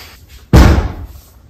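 A single loud, sudden bang like a door slamming or being forced open indoors, sharp and close, followed by a brief rumbling decay and then quiet.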